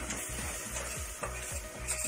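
Flour fries in butter and a little oil for béchamel, a soft, steady sizzle under regular scraping strokes of a spoon stirring the pan.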